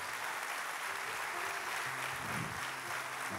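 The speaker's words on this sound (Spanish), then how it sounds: "dele un aplauso a eso" A church congregation applauds, a steady wash of clapping from many hands with no single claps standing out, continuing evenly throughout.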